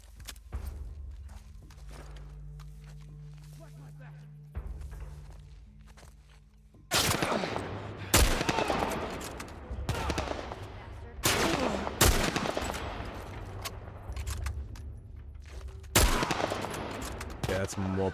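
Revolver and gunfire in The Last of Us on city streets: a quiet stretch, then from about seven seconds a run of loud, sharp shots at uneven intervals, with footsteps and some speech mixed in.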